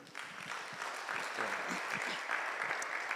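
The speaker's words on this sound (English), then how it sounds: "Clap for yourself." An audience claps steadily at a university research conference on media and communication, a dense, even patter held at a constant level throughout.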